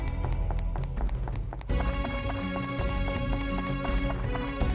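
Footstep sounds from the video game Dark Cloud, a rapid run of clip-clop taps set over looping game music with a sustained tonal backdrop.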